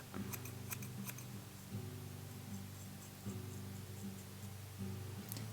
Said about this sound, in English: Or you can cut up into it to taper it and trim it a bit.